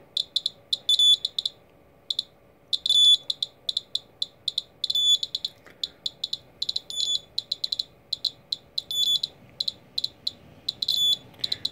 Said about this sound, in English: So that's my low level alarm going off.